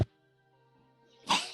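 A sneeze bursts out near the end, one sharp loud blast after a quiet stretch with a faint steady hum, heard during a tabletop D&D session.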